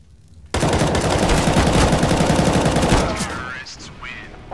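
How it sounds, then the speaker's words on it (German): Rapid automatic gunfire in CS:GO rattles in a loud, sustained burst for about two and a half seconds, then breaks off into fainter clatter and trailing echoes. "Ich habe zum Beispiel jetzt nicht auf den Körper, ich habe auf den Boden geschossen"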